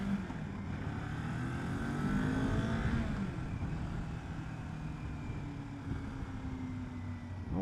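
A Kawasaki motorcycle, a Ninja 400 or Z400, accelerates while being ridden, its engine note rising in pitch through the gears over steady wind rush, moderately loud and with no talking.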